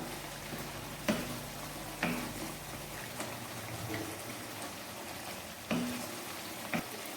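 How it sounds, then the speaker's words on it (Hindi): Mutton kofta curry masala frying in oil in a pan gives a soft, steady sizzle, fairly quiet, with a few sharp clinks of a spoon stirring against the pan. "मैं इसे इतना भूनूंगी अब कि इसके ऊपर ऑयल आ जाए।"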